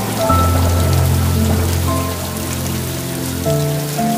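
Steady rain falls at night in a town bazaar, a dense even wash of drops on surfaces, loud and close, with a low droning tone running beneath it throughout.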